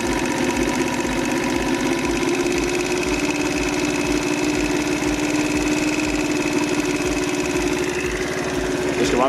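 A small engine, likely a lawn-mower-type motor, idles steadily just after being started, with a rapid, even chugging pulse that holds for the whole stretch, close and loud.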